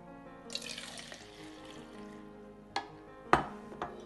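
Rose milk sherbet is stirred to dissolve the sugar, giving soft liquid swirling with a few sharp clinks of a spoon against the container, quiet and close.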